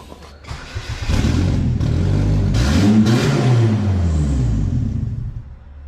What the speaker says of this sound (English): I'm gonna get it fired up.